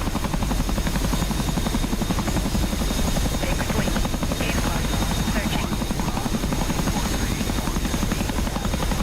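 Helicopter rotor in the DCS flight simulator, a steady loud thudding chop with engine whine running unbroken throughout, up close and dominant.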